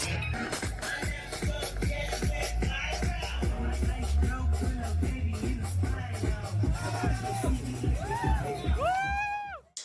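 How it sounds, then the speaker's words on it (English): Crowds along the Mexico City Marathon route cheer in a steady, dense roar of voices, with a rapid rhythmic patter running underneath and rising whoops and whistles near the end before it cuts off. "The crowds were unmatched all along the way. People were cheering, playing music, and offering support."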